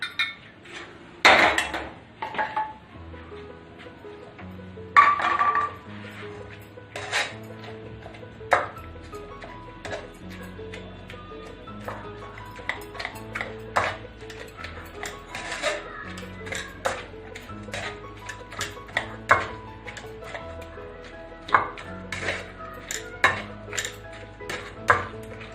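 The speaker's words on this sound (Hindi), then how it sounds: "स्ट्रेनर में इसे स्ट्रेन कर देंगे।" Cooked tomato worked through a metal strainer with kitchen utensils, giving repeated scraping, tapping and clinking of metal against metal, close and fairly loud, in an irregular rhythm of knocks and rubs.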